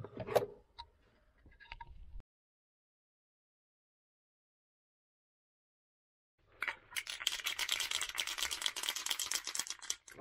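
A can of top coat paint shaken hard, giving a dense, continuous rattle up close, preceded by a brief burst of rattling, then a few seconds of silence before the long shaking resumes.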